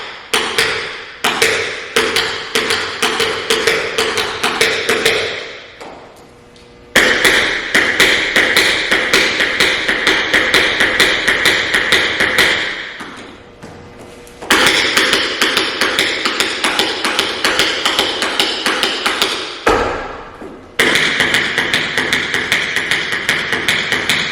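Tap dance shoes beat out fast, scaled-down shuffle steps in one spot, a dense run of crisp metallic taps with brief pauses between bursts, close and clear with no talking.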